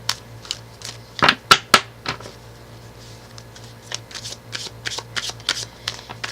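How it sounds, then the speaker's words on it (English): Tarot cards are shuffled by hand in a quiet room, a series of crisp riffling bursts and soft slaps, sharp and close at first, then lighter, uneven handling sounds. "I'm going to shuffle this very well"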